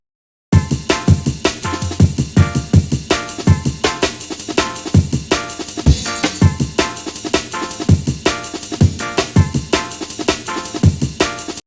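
A jungle breakbeat in Ableton Live drives hard under a looping chord pattern, with fast snappy drum hits, deep kicks and bright cymbal wash, loud and continuous after a brief silent start.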